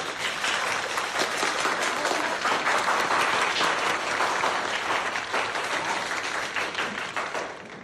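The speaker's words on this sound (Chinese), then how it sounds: "让我们为顾小满同学鼓掌。" Classroom students applauding a classmate, sustained crowd clapping that swells and holds for several seconds before tapering slightly, close and fairly loud, with a faint tone running underneath.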